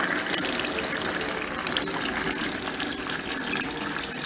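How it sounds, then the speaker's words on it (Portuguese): Water gushing from a tap into an Arno Lavete Intense Delicate 10 kg (ML61) washing machine drum, a steady, close rushing flow throughout. "Vou abrir a torneira para ele encher de água."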